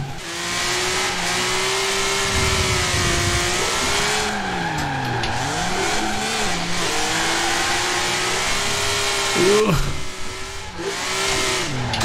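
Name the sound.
BMW M3 E46 drift car spinning donuts in Forza Horizon 4 video game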